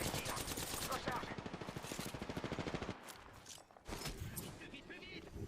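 Rapid automatic gunfire from the Apex Legends shooter game, a steady stream of quick shots that stops briefly and then resumes, with a character's voice over the firing.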